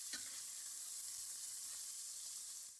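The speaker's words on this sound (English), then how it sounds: "I love cooking thick cut bacon because you could get a crispy exterior" Thick-cut homemade bacon sizzles steadily in a pan, a dense close hiss of frying fat with faint crackles, running alone without any voices.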